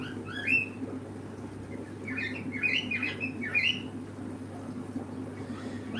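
Indoors in a fish room, a bird gives a string of squawking, chirping calls, loud at first and then in scattered bursts over the constant hum of aquarium pumps.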